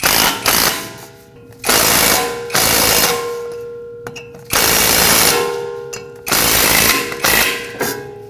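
A socket tool tightens brake rotor bolts on a 2020-or-later Toyota Corolla's front brakes in six loud, rattling bursts of roughly a second each, separated by short pauses, close up.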